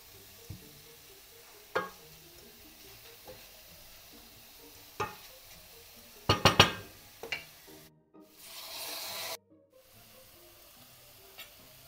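Mushrooms crackle in a hot pan for mushroom risotto with a few sharp scrapes, then white wine pours in and a loud, steady hiss rises for about two seconds before dropping away.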